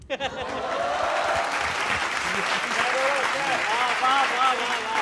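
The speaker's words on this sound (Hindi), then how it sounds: "तालियां थोड़ी और बढ़ाना बच्चों।" An audience of children claps steadily through a Hindi poets' gathering for a Jharkhand election show, a dense wash of applause with light chuckles and a voice heard over it.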